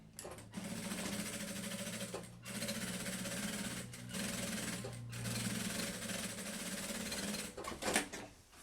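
Sewing machine stitching fabric for a party trunk bag, several steady runs of fast mechanical whirring separated by short pauses, close and moderately loud.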